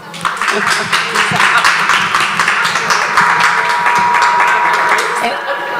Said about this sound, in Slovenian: predtem pa en aplavz za njo